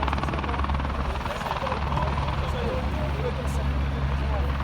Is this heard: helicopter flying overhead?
yes